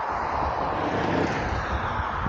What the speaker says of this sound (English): I heard some engines start up, so that's a good sign.